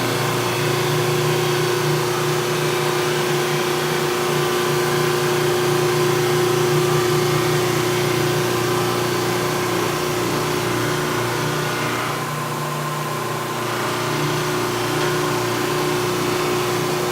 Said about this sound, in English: listen to that grind